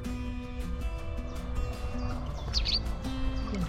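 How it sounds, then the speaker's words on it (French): Small birds beside Lake Aiguebelette in France give brief high chirps, including a bright burst near the end, over steady outdoor background sound, fairly close. "Je sais pas comment ça s'appelle ces petits oiseaux."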